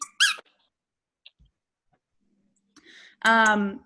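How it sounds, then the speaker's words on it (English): A dog's squeaky toy gives a short, high rubbery squeak up close, then near silence, then another longer squeaky squeal with rising harmonics near the end. "Sounds like someone's dog's squeaky toy."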